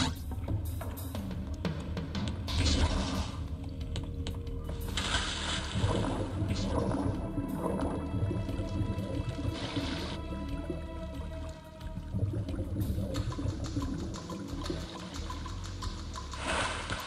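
Steady rushing water of a waterfall in the video game Heretic II, a continuous broadband roar filling the whole stretch with game effects and music mixed over it, no talk.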